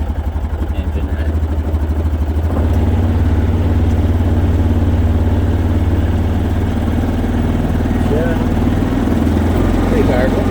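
A Hyson 500 side-by-side with a 471 blower idles steadily and loud in the foreground, a continuous low rumble, with people talking over it.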